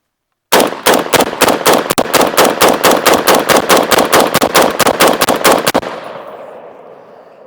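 An SG36 rifle fires a rapid magazine dump on a shooting range, about twenty loud sharp shots in a fast even string, then a ringing decay as the firing stops.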